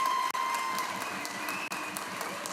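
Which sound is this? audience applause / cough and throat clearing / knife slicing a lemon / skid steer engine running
audience applause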